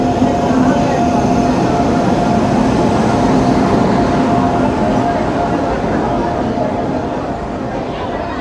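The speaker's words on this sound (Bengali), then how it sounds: "তো ট্রেন চলে এসেছে" A train pulling into an Indian railway station with ICF coaches, a steady loud rumble filling the whole stretch and easing slightly toward the end, with faint voices in the background.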